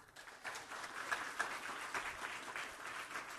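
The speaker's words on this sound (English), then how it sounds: "Applause." An audience at a religious talk applauds, a faint, steady wash of many hands clapping for a few seconds with no voices over it.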